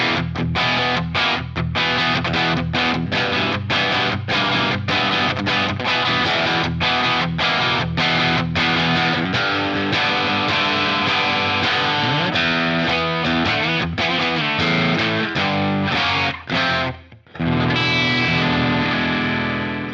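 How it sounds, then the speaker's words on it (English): A Mooer MMT 100FR electric guitar on its bridge pickup runs through a distortion pedal set to mild gain, playing loud, crunchy chords and riffs with sharp rhythmic stops, then ringing out near the end, with no talking. "with an added distortion pedal in front with like a little bit of gain, but not that much. So the bridge pickup sounds like this"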